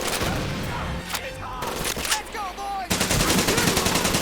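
Rapid automatic gunfire bursts and heavy shots from Medal of Honor: Pacific Assault, loud and close, broken by brief pauses and a short muffled stretch, then resuming as sustained fire.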